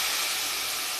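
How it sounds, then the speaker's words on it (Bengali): Soaked mustard paste and green chillies hitting hot oil along with turmeric and cumin, a loud continuous bright hiss and sizzle sustained throughout the short moment. "ভিজিয়ে রাখা সর্ষেটা, দুটো কাঁচা লঙ্কা দিয়ে দিলাম।"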